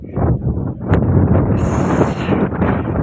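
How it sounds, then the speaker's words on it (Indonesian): Strong mountain wind on Mount Lawu pounds a microphone in a steady low roaring rush with brief gust peaks, loud and close, with no talking over it. "Anginnya kencang sekali guys di sini guys."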